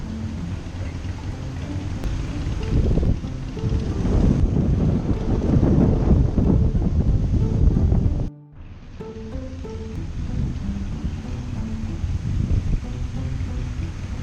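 Wind gusts across a beach ahead of Hurricane Dorian, with surf rushing and roaring close by and heavy wind buffeting the microphone. The noise drops out briefly partway through, then resumes more steadily.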